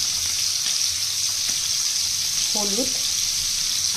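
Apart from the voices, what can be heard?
dry-frying prawns with turmeric in a pan without oil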